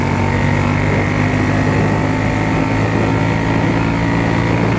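A Triumph Bonneville T120 motorcycle at high speed makes a loud, continuous engine drone through its gears, heavily mixed with wind rush.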